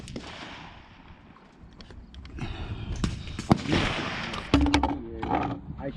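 Gunshots ring out at an outdoor shooting range on Long Island, New York, as a scatter of sharp cracks and pops, some near and some distant, that grow busier toward the end.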